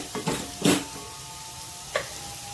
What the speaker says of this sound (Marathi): ते टाकते आहे टॅमॅटो छान नरम व्हायला द्यायचे